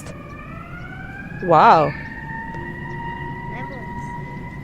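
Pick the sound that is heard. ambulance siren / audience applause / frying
ambulance siren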